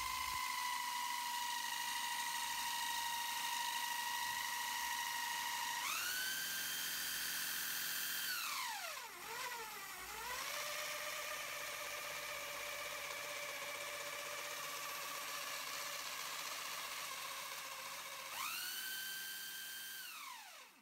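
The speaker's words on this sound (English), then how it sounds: "set it all up and spun it up with my electric drill" An electric drill spins a dummy crankshaft and cam chain in a replica Honda RC374 six-cylinder engine, giving a steady mechanical whine that repeatedly slows and speeds back up, alone with no voices.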